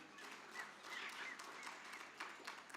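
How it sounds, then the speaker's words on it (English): An audience at an international women birders conference applauds in a large hall, giving a dense, steady patter of many hands clapping that sounds fairly distant and soft throughout. "Can you give a round of applause"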